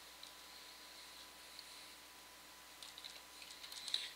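Quiet computer keyboard typing while tabbing through form fields, soft scattered key clicks at a distance over a faint steady hum, growing a little busier toward the end, with no talk.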